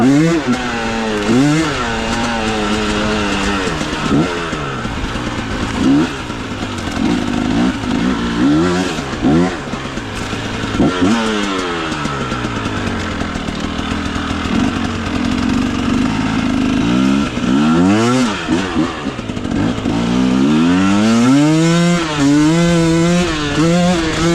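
A KOVI 300 Pro 2T two-stroke enduro motorcycle in second gear, its engine loud and close, revving up and dropping back repeatedly in rising and falling surges, with a raspy buzzing tone throughout.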